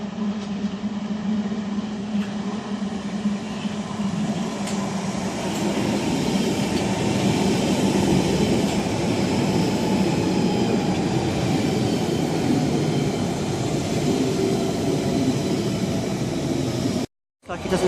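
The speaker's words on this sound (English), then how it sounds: "It just come through without stopping" A London Underground train roars through Roding Valley station without stopping, a loud, steady rumble and rushing hiss sustained from start to finish.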